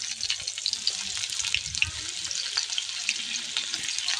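Onion drops into hot oil with dry chillies and a bay leaf, giving a steady, fairly soft crackling sizzle with light stirring throughout and no talking.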